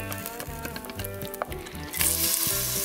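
Onion, garlic and peppers sizzle in pan drippings, with a close, crackling fry and repeated stirring scrapes that swell into a louder hiss as more ingredients hit the hot pan.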